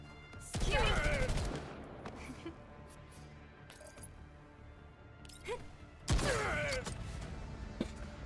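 Gunfire in the video game Girl's Frontline 2: Exilium comes as two loud, sharp volleys with a few quieter cracks and metallic clinks between them, set against a low game ambience.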